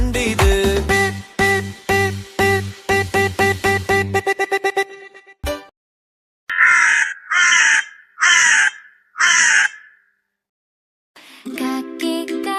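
A crow in a Malayalam children's nursery rhyme caws four times in loud, evenly spaced bursts, set between stretches of bright, bouncy music.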